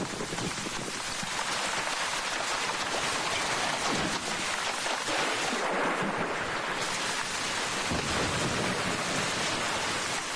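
Steady, heavy rain falls to the ground in a dense, continuous hiss, even and unbroken from start to finish with no voices.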